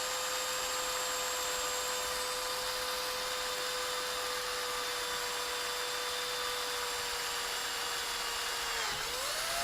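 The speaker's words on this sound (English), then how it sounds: "And we drilled all the way through" A brand-new drill bit bores through the plastic case of a Boifun action camera, making a steady, thin, high whine that holds for about nine seconds, then drops in pitch and winds down at the end.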